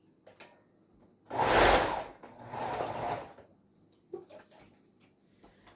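A sewing machine runs a seam with backstitching at the start and end, two short close bursts of stitching with soft clicks and handling noises around them.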